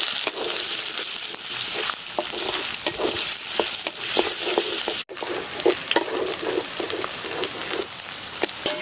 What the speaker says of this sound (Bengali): পেঁয়াজ কুচিটা একটু উপরে নিয়ে নাড়াচাড়া দিয়ে নিয়ে আসবো। নাড়াচাড়া করে নাও।